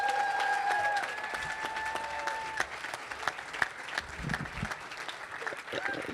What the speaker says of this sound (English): Let's give another huge round of applause, please.